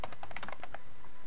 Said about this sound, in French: je tape la commande